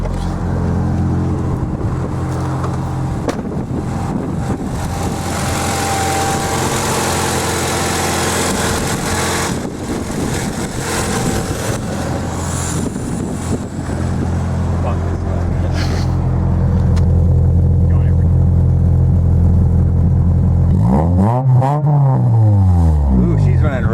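A Honda Prelude's engine runs steadily with an even, continuous hum that swells slightly louder toward the end, heard up close without talk.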